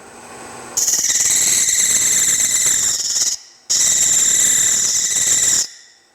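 A steady, piercing metallic whine from a spring steel chatter tool against wood on a fast-spinning woodturning lathe, in two long sustained bursts separated by a brief pause.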